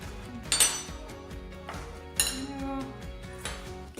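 A sieve of baking powder is tapped over a bowl of blueberry spelt muffin mixture, giving a quick run of close metallic clinks and knocks in an uneven rhythm, with two brighter taps standing out.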